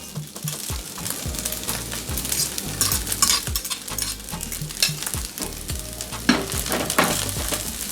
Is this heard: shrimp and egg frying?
yes